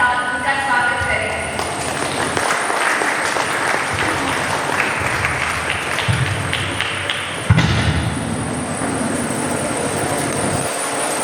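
Audience applause at a Youth Bible Mahotsav church youth gathering in Gumla, welcoming a speaker: dense, steady clapping from a crowd that carries on for several seconds, with a brief louder burst near the end.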